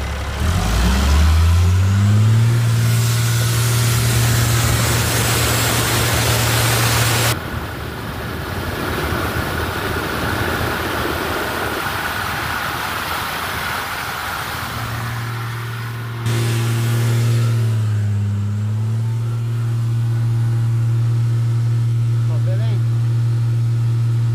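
Volvo L90F wheel loader diesel engine cranks and fires, then revs hard in long loud sustained pulls, dropping to a lower idle-like roar mid-way before surging again; voices talk over it.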